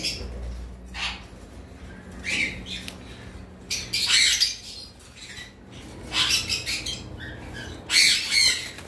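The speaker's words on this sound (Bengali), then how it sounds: "এখানে একটা পেয়ার কোকাটেল রয়েছে" A pair of cockatiels give harsh, shrill squawks that burst out repeatedly in short clusters, close and fairly loud, with quiet gaps and faint background noise between calls.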